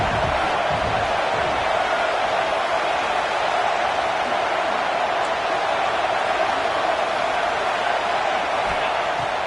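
A football stadium crowd cheers on fourth down, a steady, loud wall of roaring noise that holds without a break the whole time, with no clear voices above it.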